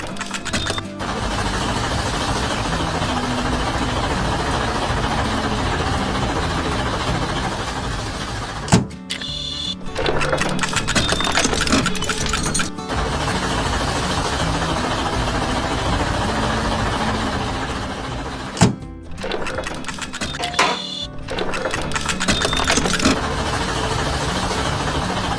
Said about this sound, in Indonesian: Traktor biru dengan ban besar sedang berinteraksi dengan peralatan mekanik, membuat kebisingan yang menggema di tengah bengkel yang sibuk.